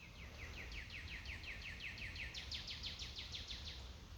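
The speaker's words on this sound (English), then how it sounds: "The birds are so joyous." Small birds sing outdoors, a quick run of bright repeated chirping notes in two trilled phrases, faint and somewhat distant over a low background hum.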